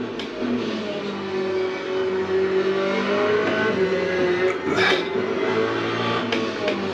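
A Corvette Z06 GT3 race car engine roars steadily in the Le Mans Ultimate racing game, holding a loud, continuous drone with shifting revs through a corner exit.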